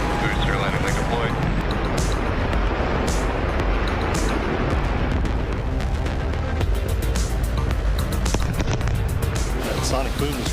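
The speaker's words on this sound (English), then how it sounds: "That sonic boom is great for us. That thunderclap broke the sound barrier." Deep booming rumbles of a Vega C rocket booster's sonic boom roll through a loud, noisy crowd at a launch, with sharp cracking bursts and cheering voices mixed over the thunderous sound.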